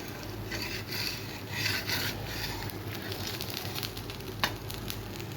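Dosa batter made with black kavuni rice sizzling on a hot griddle, a steady close hiss and rasping crackle with occasional scraping, no talking.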